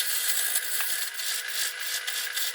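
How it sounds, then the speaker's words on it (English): A steady, close scraping hiss of a tool cutting wood on a spinning lathe, turning an upside-down bowl, runs unbroken throughout with faint rhythmic pulses. "The wood seems to be turning quite well, and the lathe is running a lot closer to being balanced"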